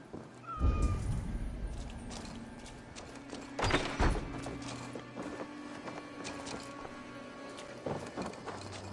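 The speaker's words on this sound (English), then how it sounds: "I never thought the meow of cats could suit..." Cats meowing in the Viking-era video game Assassin's Creed Valhalla, a few short meows among clunks and game ambience, with a couple of louder thumps standing out.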